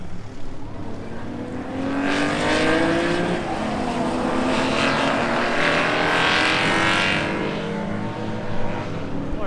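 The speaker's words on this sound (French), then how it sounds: "Oh, la Cobra qui revient déjà." An AC Cobra classic race car roars past during the Tour Auto, a loud, sustained engine rush that builds, holds for several seconds and then fades slightly, with a faint voice underneath.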